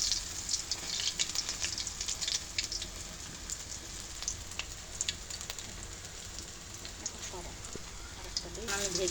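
Thankuni leaf fritters fry in a shallow layer of oil, a steady soft sizzle with scattered crackling pops, fairly quiet, with a voice speaking over it at times.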